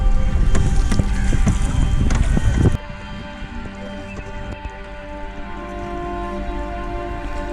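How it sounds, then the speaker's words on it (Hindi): A boat setting off through the Pichavaram mangrove forest in Tamil Nadu: loud blustery rumble at first, then a steady droning engine hum with light wind noise. "जैसे ही बोट राइड शुरू हुआ, बस में इन नज़ारों को देखते रह गया।"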